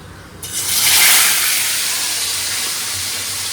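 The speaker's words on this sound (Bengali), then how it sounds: "এবার মাছ ভাজাটা চাপাবো" Fish pieces frying in oil inside a lidded wok (kadai), giving a steady loud hissing sizzle that swells after a quiet start and continues evenly throughout, with no talk.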